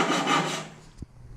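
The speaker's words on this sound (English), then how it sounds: "I used my pull saw to cut these notches." A pull saw rasps through a wooden shelf while cutting notches, a short burst of close, dry sawing strokes that fades out and ends with a small knock.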